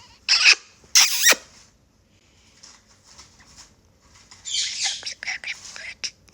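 A pet parrot whispers in soft, breathy hisses and chirpy squeaks, a few short bursts close by with quiet pauses between.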